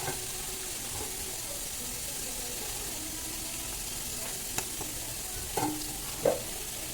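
Spices tempering in hot oil in a home kitchen for an Ugadi meal, making a steady broadband sizzle and crackle throughout, with a few sharp pops and clinks of a spoon toward the end.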